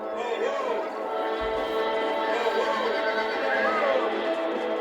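Horses in Red Dead Redemption whinny repeatedly in wavering, high calls over a steady background hum, while someone talks in the background.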